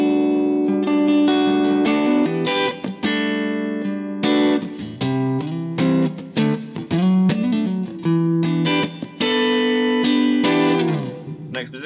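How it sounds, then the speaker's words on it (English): PRS electric guitar on a single-coil pickup played through effects, with distorted, chorus-tinged chords and riffs ringing out in bursts with short gaps, loud and close with no talking. "So let's hear that next single coil in action."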